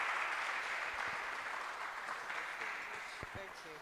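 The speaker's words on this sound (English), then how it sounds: "Please give her a round of applause as she comes through." Audience applause at a church event as a guest walks up, a steady wash of clapping that slowly fades, with a voice briefly speaking near the end.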